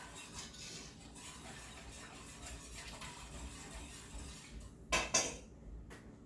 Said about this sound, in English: so I'm gonna whisk